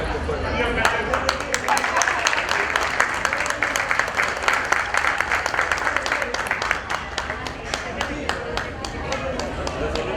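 Audience at a Shyam Pariwar devotional gathering in Dombivli applauds to welcome an elder guest, a dense, steady crowd clapping that runs throughout with many sharp individual claps, alongside some voices.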